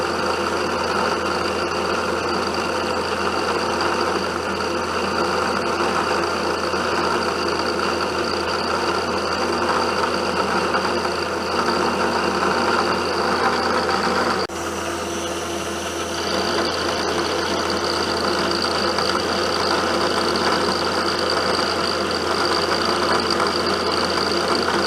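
Milling machine cuts mild steel with a carbide end mill while making brake backing plate spacers, giving a continuous loud grinding drone with a steady whine, briefly shifting midway before carrying on without voices.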